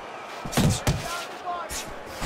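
Punches land in Fight Night Champion, a Rocky Marciano boxing match, two quick heavy thumps close together followed by lighter impacts, under a commentator talking.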